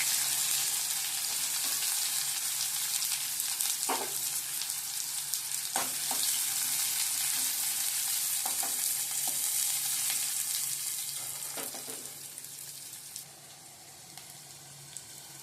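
Curry leaves and chopped onions hit hot oil already tempered with fennel seeds and a cinnamon stick for prawn thokku. A loud, dense frying hiss continues close by, with sharp stirring taps scattered through it, easing slightly near the end.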